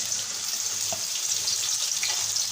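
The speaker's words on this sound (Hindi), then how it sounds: "और प्याज को हम फ्राई कर लेंगे, गोल्डन होने तक हम फ्राई करेंगे प्याज को।" Two chopped onions fry in hot ghee for beef pulao, giving a steady close sizzle with faint stirring scrapes and no pauses.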